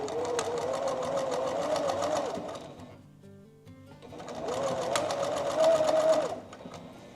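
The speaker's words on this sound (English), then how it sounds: "we'll just start chain piecing these rows too" Sewing machine stitching while chain piecing the rows of a flag quilt, running in two steady bursts of rapid needle clatter with a brief quiet pause between them, close by with no talking.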